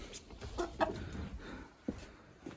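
Several chickens cluck in short scattered calls inside a village coop against a low, steady background hum, with a few louder clucks standing out nearby.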